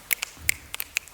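Finger snaps, as the ancient Romans used in place of applause, heard as about eight sharp, dry clicks spaced irregularly, close and fairly quiet, with no voices.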